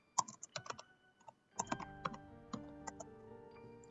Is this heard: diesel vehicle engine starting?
no